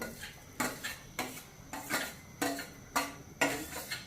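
Tempering being stirred into boiling milk in a metal pot for an upma-style dish, with a steady series of about eight soft metallic scrapes and clinks from a spoon against the pot, close and fairly quiet.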